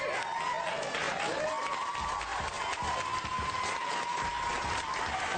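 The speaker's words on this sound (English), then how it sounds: "Give him a big round of applause for my good friend," A studio audience on a dating reality show gives a round of applause for a male guest, with steady massed clapping and some cheering heard under a faint musical tone.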